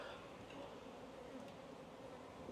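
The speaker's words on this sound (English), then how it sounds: "the bees do start getting a little bit more antsy" Bees hum steadily around an open beehive during a hive check, a soft continuous drone at a moderate distance with no speech.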